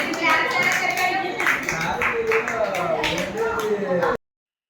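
A group of Anganwadi workers at a training session claps together in a steady burst of applause mixed with talking, ending abruptly.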